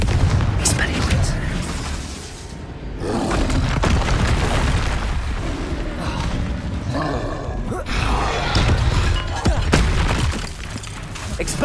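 Confringo blasting spell explosions in Hogwarts Legacy, repeated loud booming blasts and crackling impacts in rapid succession over busy game combat noise, with brief lulls between bursts.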